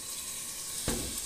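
Red chile sauce for a New Mexico style beef and potato dish sizzles in a pot with a steady hiss. A sudden louder burst rises partway through as the sauce hits the hot pot.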